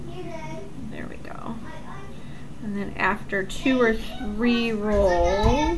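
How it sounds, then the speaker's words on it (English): Children and family members chatter and babble close by while an adult speaks over them, their voices rising and overlapping toward the end. "you can hear my kids and family in the background"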